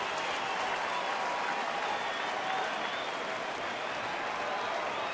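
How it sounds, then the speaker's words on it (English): A baseball stadium crowd at a Seattle at Detroit game cheers and applauds in a dense, continuous roar of clapping that stays loud and steady throughout. "here comes the crowd"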